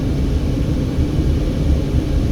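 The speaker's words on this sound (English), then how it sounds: "there's a tourism helicopter up there in the sky" A tourism helicopter passes overhead near the Hoover Dam bypass bridge, heard as a low, steady rumbling drone that stays at an even level throughout, with no voices.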